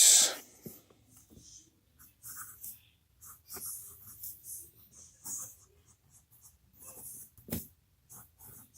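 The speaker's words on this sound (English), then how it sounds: "This nib really doesn't give back a tremendous amount of feedback, and it is pretty smooth." An Eversharp Skyline fountain pen nib scratches softly across paper in short strokes and pauses, quiet and close, with faint breaths and handling noises between strokes and no speech.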